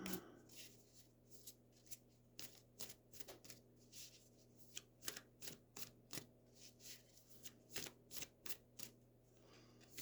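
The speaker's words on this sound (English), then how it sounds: "I'm just shuffling the cards" A deck of tarot cards shuffled over and over, a rapid run of soft papery riffles and snaps in a steady rhythm, close up and without speech.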